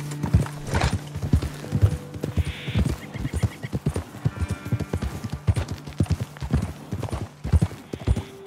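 Horse hooves clip-clop at a steady riding rhythm in Red Dead Redemption 2, a western video game, trailing up a hillside path, with an occasional whinny and faint game ambience.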